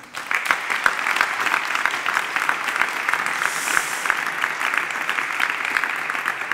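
An audience applauds a four-member panel at the end of a discussion at a Smart Germany conference, with individual claps popping out of a steady, moderately loud patter that continues throughout.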